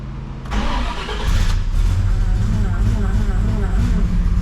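A 1970 Oldsmobile Cutlass W-31 V8 cranks and fires after the choke is set, then settles into a loud, steady rumbling idle close by, with a voice speaking over it.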